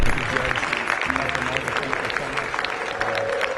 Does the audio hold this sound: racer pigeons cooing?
no